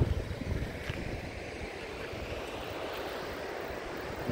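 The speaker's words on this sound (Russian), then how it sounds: "тут за моей спиной, ну, океан во всей красоте." Ocean surf beside a huge dune on a New Zealand beach, a continuous low roar of breaking waves mixed with gusting wind buffeting the microphone, steady throughout with no talk.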